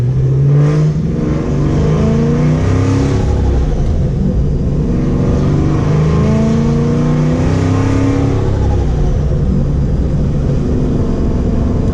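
A supercharged 2015 SS Camaro on a hard pull with the windows down, its engine roaring loud and close throughout with rising whine and rev sweeps, no talking.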